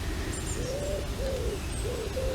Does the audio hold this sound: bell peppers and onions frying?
no